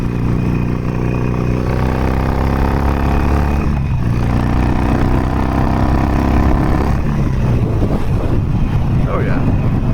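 Harley-Davidson Sportster Forty-Eight motorcycle engine running steadily at close range, a deep continuous rumble with low harmonic bands that shift as the bike changes speed, loud throughout with wind noise on top.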